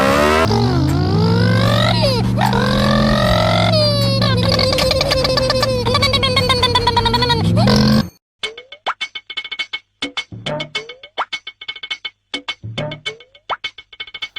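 A motorcycle engine revs hard and climbs in pitch through repeated throttle bursts, loud and close, then cuts off abruptly, followed by a series of sharp, sporadic sounds separated by silence.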